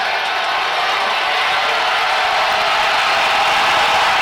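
Crowd noise at a strongman deadlift event at the 2023 Shaw Classic, a dense, steady roar of cheering and shouting that holds at a constant loud level and swells slightly toward the end.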